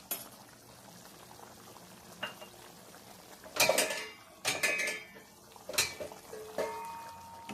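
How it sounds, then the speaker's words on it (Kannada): Fish curry simmers in a pot, a low bubbling bed broken by several sharp clinks and scrapes of a spoon or ladle against metal cookware, close and without talk. "ಸಾರು ಚೆನ್ನಾಗಿ ಕುದ್ತಾ ಇದೆ."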